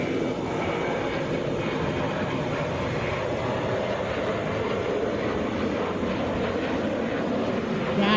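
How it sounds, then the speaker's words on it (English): A Delta Boeing 737 at Atlanta airport, headed to St. Louis, with a steady broadband engine roar holding constant at moderate distance throughout. "This is Delta 2934, headed to St. Louis, Boeing 737."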